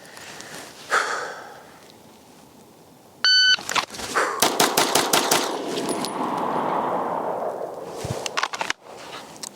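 Dan Wesson DWX 9mm pistol fires a quick string of sharp, loud shots outdoors, preceded by a shot timer beep, with a brief pause and a final shot near the end.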